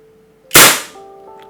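A Taurus PT92 pistol fires a single loud, sharp shot during a chronograph test. The crack rings off in a decaying tail between a faint steady hum before and after.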